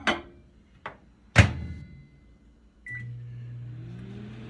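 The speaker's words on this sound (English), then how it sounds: "we're gonna stick this bowl of ice cream in the microwave" A microwave oven, with a bowl of ice cream inside, is loaded with a few door thunks and clicks, then starts up into a steady, close hum that runs to the end alone.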